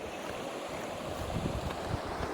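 Continuous broadband rushing of flowing water, steady and fairly close, with a low gusty rumble underneath and no voices.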